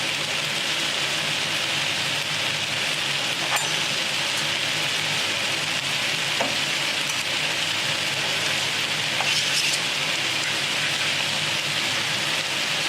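Brussels sprouts fry in a pan with a steady, dense crackling hiss that continues without a break, broken only by a few faint clicks, and no one talks.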